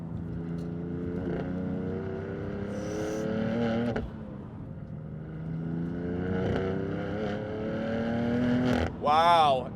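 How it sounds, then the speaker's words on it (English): Tuned 500-horsepower BMW M3 F80 with a six-speed manual, its turbocharged engine droning loudly and steadily as it accelerates through the gears, with a brief dip around a shift and a rising whoosh near the end. "Turbo sounds dope."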